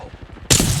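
A sudden loud burst of gunfire in a video game cuts in halfway through, sharp and close, after a quieter stretch of low background rumble.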